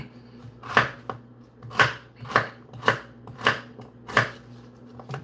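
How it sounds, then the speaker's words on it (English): A knife chops beetroot on a board while spicy dill pickled beets are being made, giving six evenly spaced, crisp thuds about half a second apart with a low hum underneath. "we cut up this beetroot"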